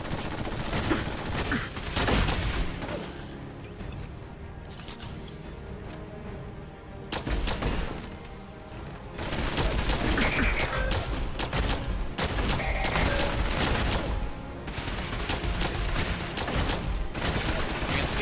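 Rapid volleys of plasma rifle fire in the video game Fallout 4 crackle in loud bursts, with short quieter gaps between the barrages.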